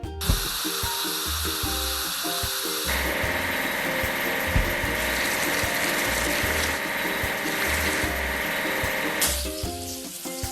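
Video-game construction vehicle working a hydraulic hammer to crack big rocks: continuous rapid mechanical clattering and ratcheting over a repeating electronic music loop, steady and loud throughout.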